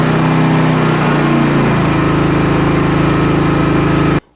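A 3200-watt portable generator steadily drops its engine speed as it switches into economy mode, the loud close drone lowering in pitch and settling before cutting off abruptly at the end.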